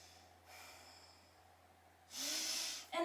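Deep breathing during a yoga shoulder-opening stretch with the head hanging down: a soft, long inhale, then a louder, breathy exhale close to the mic, and the start of another breath at the end, with no talking.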